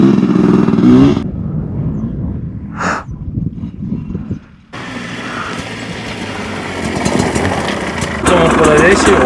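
A 2025 Sherco motorcycle engine runs steadily, then cuts out for a moment and starts again louder, with people talking over the mechanical drone.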